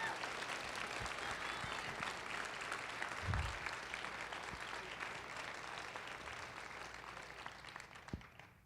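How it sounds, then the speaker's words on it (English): Audience applause for ten seniors at the close of a 2019 school drama production, a steady dense clapping from a crowd that carries on for the full length at a fairly quiet level and tapers slightly near the end. "Give them a round of applause,"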